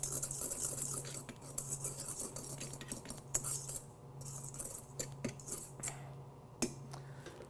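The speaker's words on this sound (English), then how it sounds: "I'm just going to kind of stir that in together." Sugar and ground cinnamon are stirred together in a small bowl, a faint, close scraping and clinking of a utensil in repeated soft strokes over a low background hum.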